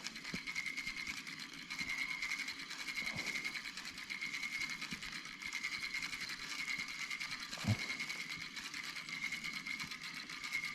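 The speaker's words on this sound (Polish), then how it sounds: "Kołowrotek hałasował." A steady mechanical whirring with a faint ratcheting texture runs continuously as a feeder fishing reel is wound, with a couple of soft knocks.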